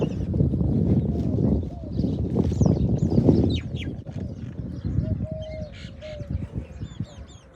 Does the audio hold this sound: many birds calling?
yes